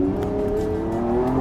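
Lamborghini Revuelto V12 engine revving close and loud. It holds a steady, smooth rising howl through a short burst, with no voices.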